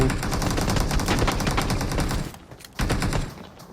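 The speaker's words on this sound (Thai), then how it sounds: "มีคนอื่นยิงมันนะ" Rapid bursts of automatic gunfire in PUBG Mobile on the snow map Vikendi rattle for about two seconds, then a short final burst, sharp and close with no speech.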